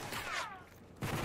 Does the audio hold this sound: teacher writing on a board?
no